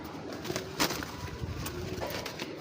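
Soft, low cooing from racing pigeons rises in the background amid faint rustling and light ambient noise.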